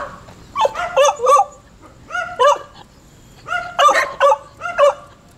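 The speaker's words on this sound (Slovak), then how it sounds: "je tu veľa štekajúcich psov" Several dogs bark in a street in Pattaya, Thailand, sharp loud barks coming in quick clusters of two or three, close and clear over a quiet background.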